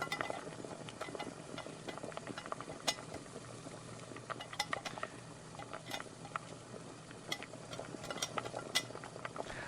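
Busy cooking noises in the Petsitting video game while a meal is made for a pet dog: soft scattered clinks, taps and bubbling patter layered over a constant quiet background hiss.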